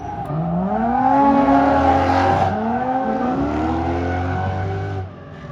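A Ford Mustang drifting around a corner at a drift day, its engine revving loud and rising and falling while the tires squeal, close and continuous before easing off at the end.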